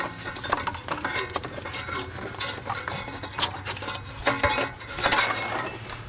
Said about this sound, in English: Now we will take the belt and pull it off all the pulleys.